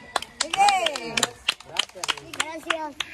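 Small group clapping for young children at a family gathering, uneven bursts of hand claps mixed with excited children's voices and adult talk, close and fairly loud.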